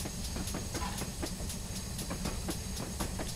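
A GWR Hall 4900 Class steam locomotive runs in a train simulator on a branch line, with a steady hissing of steam over a low rumble and quick rhythmic chuffs and wheel clicks repeating evenly throughout.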